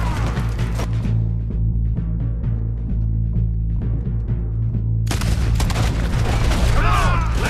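Gunfire and booming blasts in a Red Dead Redemption 2 shootout, with heavy low rumble throughout and a loud burst of shots near the end, under a steady game soundtrack and voices.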